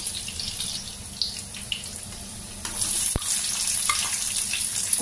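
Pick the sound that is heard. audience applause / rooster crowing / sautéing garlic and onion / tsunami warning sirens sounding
sautéing garlic and onion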